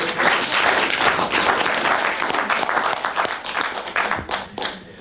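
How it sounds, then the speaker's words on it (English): Audience applause at a lecture on the historical origins of Christianity, a dense, sustained patter of many hands clapping close by, tapering slightly near the end. "If you want to clap, it's okay."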